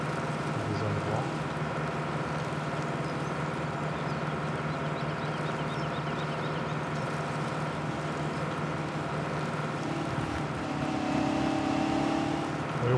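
Tractor driving at low speed in the video game Farming Simulator 17, a steady droning engine hum that runs continuously, with slight shifts in pitch toward the end.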